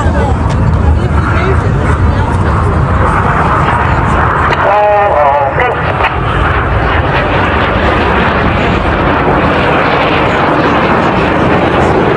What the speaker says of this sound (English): Each aircraft once again dive down to 100 feet.